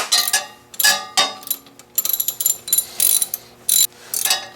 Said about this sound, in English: And then tighten with your 12mm wrench and ratchet.